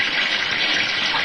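Water runs steadily from a tap or pipe, a continuous close hiss and splash that holds even for the whole stretch with no voices.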